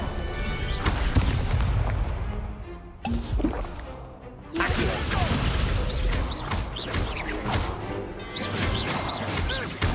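A fiery Incendio spell erupts in a Hogwarts Legacy wizard duel: loud, dense booming blasts and crashes, with a brief drop near the third second before another heavy burst carries the clamor onward.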